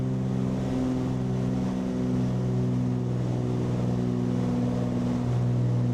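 Steady droning hum of a Flysimware Cessna piston engine in Microsoft Flight Simulator after the throttle is eased back to about 34 inches, a continuous even tone with no talk over it.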